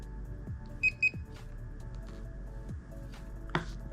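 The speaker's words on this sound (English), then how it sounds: "whenever it beeps twice, it means that it's been successfully paired with the transmitter" Two quick high-pitched electronic beeps from a DEERC DE22 drone controller pairing with its transmitter sound close together, clear over a quiet background hum with faint handling noises.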